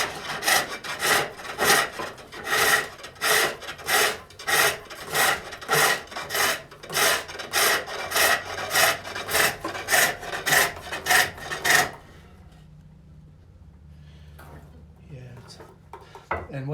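A gouge or chisel cuts a groove in wood on a foot-powered pole lathe while a Swedish-style locking lidded box is turned. Rhythmic rasping strokes come in quick succession for about twelve seconds, then stop, leaving quiet room noise.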